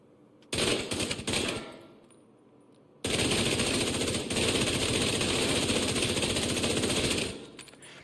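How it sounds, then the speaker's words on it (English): Rapid automatic gunfire in The Division 2 video game, shooting at targets: a short loud burst, a brief pause, then a long sustained stream of dense, rattling shots close up. "So I'm going to shoot these targets over here."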